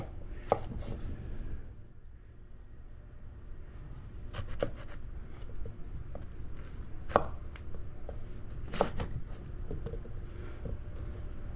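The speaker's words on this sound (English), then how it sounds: "Cut it into the slices, the thickness that you want." A knife slices squash on a cutting board in a series of sharp, close chops spaced irregularly, with quiet pauses between cuts and faint background hum.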